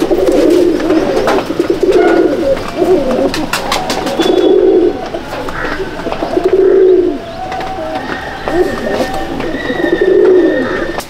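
Pigeons coo in a loft of Madrasi high-flying birds, a steady series of soft, throaty coos from several birds close by, with faint chirps and background rustle between the calls.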